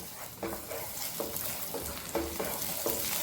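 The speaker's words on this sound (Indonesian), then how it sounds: "Kemudian kalau udah panas, tumis bawang putih hingga harum." Garlic sautéing in two spoonfuls of hot cooking oil, a steady bright sizzle broken by several scraping stirs at regular intervals, close and alone.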